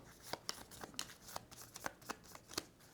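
Eight oxygen or event cards from the board game Escape from the Moon get shuffled by hand in a quick, faint, rhythmic series of riffling snaps.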